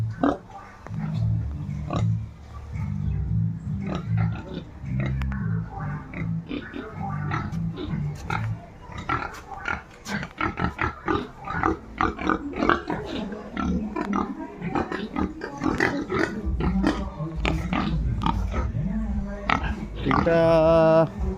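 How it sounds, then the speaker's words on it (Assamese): Pigs of about 70 to 80 kilograms grunting and oinking close by in repeated low bursts, with a voice talking over them at times. "এইকেইটা গাহৰিকেইটা"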